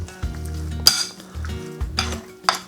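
Raw beef being stirred by hand or utensil with sesame oil, brown sugar and light soy marinade in a bowl, giving soft wet squelching mixing strokes punctuated by a few sharp clinks of utensil against dish.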